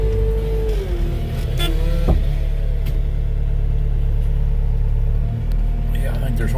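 A vehicle drives along city streets, its engine rumbling low and steady with a brief rise in revs, heard from inside with occasional clicks and faint background noise.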